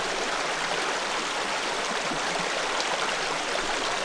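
A small creek flows nearby during fly fishing, giving a steady, close, full rushing and babbling wash of water with no voices over it.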